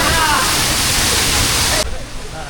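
Monsoon rainwater gushes at Raigad fort as a loud, close rush of water for about two seconds, then drops off abruptly. Faint voices follow.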